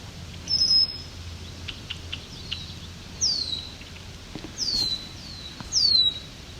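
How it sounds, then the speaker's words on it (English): A swamp sparrow sings loud and close beside a trail at Otter Lake, giving four short, bright bursts spaced a second or two apart over quiet background hiss. "There's a nice loud swamp sparrow."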